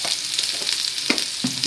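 Ginger garlic paste fries with taro pieces in hot oil, giving a bright continuous sizzle with a few soft stirring scrapes, close by and without talk.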